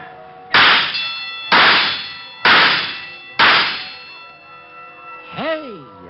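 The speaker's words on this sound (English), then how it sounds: "Hey, that's pretty good shooting." Shots at a carnival shooting gallery in an old-time radio noir drama: four sharp, evenly spaced metallic cracks, each ringing out with a bell-like clang before fading, followed by a wavering, warbling tone.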